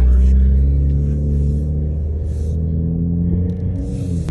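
A Toyota Supra's loud exhaust rumbles at idle, a deep steady drone held close by with slight shifts in pitch and no voices over it.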